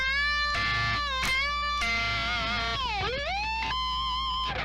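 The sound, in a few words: electric guitar whammy bar dive and bend during a solo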